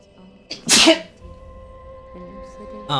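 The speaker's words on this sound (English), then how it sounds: "I'm gonna sneeze." A single loud, sharp sneeze bursts out near the mic, preceded by a short intake of breath, then fades into quiet room tone.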